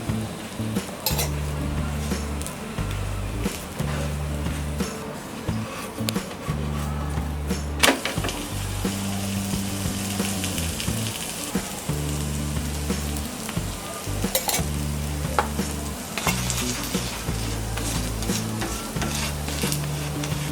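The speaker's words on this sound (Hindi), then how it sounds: "इसमें डालेंगे 1 टीस्पून ऑयल और इस पराठे को इस पर डालेंगे। ऊपर से भी थोड़ा ऑयल डालेंगे।" Foxtail millet aloo paratha fries in oil on a hot roti tawa, making a steady, dense, close-up sizzle that runs unbroken throughout with no one speaking.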